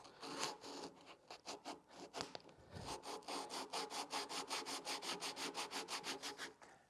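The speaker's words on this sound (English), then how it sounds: "just kind of saw it around a little bit just to widen it out" A hand saw works back and forth in the kerf of a scrap-wood sanding block, making quiet, close rasping strokes that settle into a fast, even rhythm.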